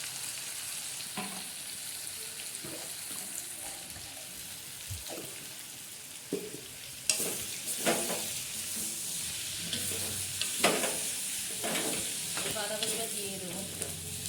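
Ground cumin and chili powder frying and being stirred in a pan for a Bengali cabbage curry, a steady close sizzle broken by scraping stirring strokes and clinks, with no talking.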